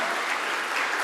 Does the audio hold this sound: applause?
yes